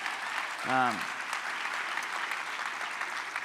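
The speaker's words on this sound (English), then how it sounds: "So please give a round of applause for them." Audience applause at a general session in Washington DC fills the clip as steady, moderately loud clapping, with a brief voice cutting through near the start.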